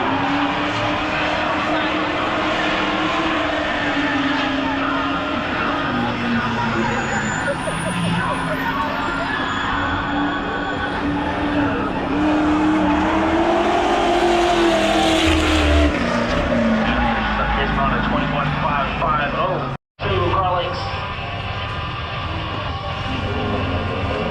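Race car number 26 screams through turns 1 and 2 on its first lap at a track, a loud continuous engine drone rising and falling in pitch as it works the corners, with voices talking over it throughout.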